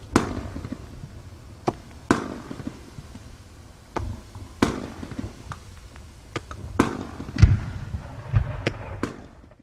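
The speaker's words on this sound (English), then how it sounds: "Falling leaves. After the explosion, small balls of colored light slowly fall downwards." A falling leaves firework sends out a series of sharp, crackling bangs at irregular intervals, some near and loud, others fainter, with dull thuds and quieter crackle between the reports.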